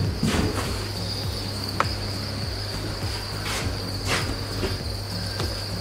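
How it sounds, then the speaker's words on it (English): Many crickets chirp steadily and close, a dense, continuous trilling chorus of kept crickets with no talking. "what you can see is all the crickets"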